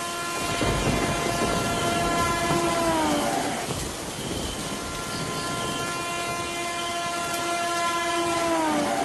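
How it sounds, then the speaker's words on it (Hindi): A train pulls into a railway station at night, its horn sounding in long sustained blasts with a brief pause, over the rumble of the cars rolling in. "रेलवे स्टेशन पर आखिरी ट्रेन आई।"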